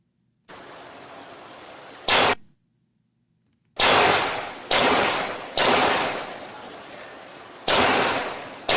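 Gunshots captured by a Ring doorbell camera's audio: about five sharp, loud broadband blasts, one single report followed after a pause by a tight cluster and a later pair, each ending in a short decaying echo.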